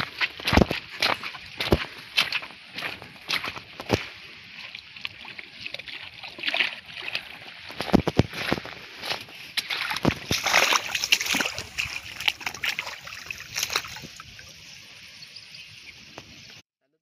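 Continuous close-up splashing and sloshing of water as soil-covered wild bhirmoli tubers are scrubbed and rinsed, with uneven bursts throughout.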